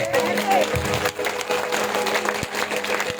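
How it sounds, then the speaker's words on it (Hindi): A church congregation at a healing prayer service claps along, a busy patter of hands under a speaking voice, with a sustained tone and a couple of sharp knocks. "आपके हाथ ऐसे ताली बजानी चाहिए"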